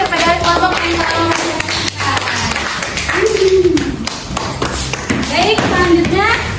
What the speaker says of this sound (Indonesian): Kita tepuk tangan kepada kelompok yang tolong